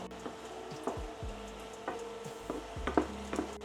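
Garlic and onions frying in a pan beside chicken for chicken fried rice, stirred with a utensil that scrapes and clacks several times over a steady close sizzle, with no talking.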